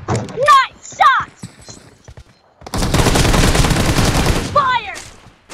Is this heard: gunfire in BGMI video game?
yes